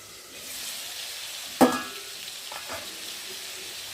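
Vegetables frying in a pan with pumpkin, potato, eggplant and red potato, a soft steady sizzle running throughout, with one brief sharp clatter partway through.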